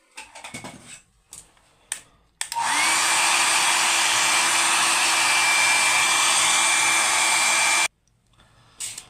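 Hair dryer blowing to speed the drying of paint on a sacred art figure, switching on abruptly and roaring loud and steady for about five seconds before cutting off, with brief handling noises before and after.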